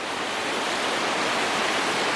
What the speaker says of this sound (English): Let you look at the waterfall from the top side of it.